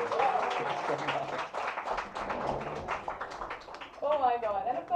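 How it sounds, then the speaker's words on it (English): Audience applause welcoming actor R Madhavan at a health and nutrition magazine cover launch, scattered clapping mixed with crowd chatter and a voice over it. "please help me welcome with a huge round of applause"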